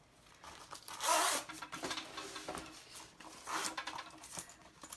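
Zipper being worked on a faux leather moto jacket during an unboxing, giving a few close, scratchy rasping pulls with quieter rustling of the jacket between them.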